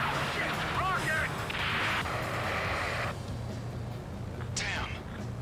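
A rocket blast in the combat flight game Ace Combat 7 booms loudly and roughly, layered over a dense, continuous wash of battle noise and engine roar, with a sharp crack near the end.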